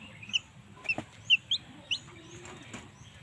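A chicken gives a handful of short, sharp clucks in quick succession close by, with faint rustling in the background.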